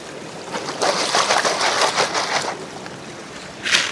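Moss being washed out in a gold pan in a stream, a steady watery swishing and splashing that surges through the middle, with a brief sharper splash near the end and no talking.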